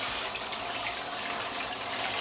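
Tap water runs steadily over a cucumber being washed at a sink, a constant bright hiss and splash with no talking.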